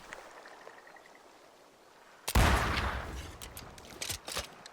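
A sudden loud gunshot bursts from the video game Banishers after a quiet stretch, followed by a rattling tail and a couple of smaller sharp cracks.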